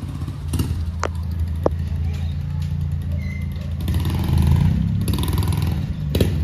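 A motorized tricycle passes by on a street, its motorcycle-like engine rising in a nearby rev and clatter over a background hum, with a few sharp knocks and clicks and no clear talk.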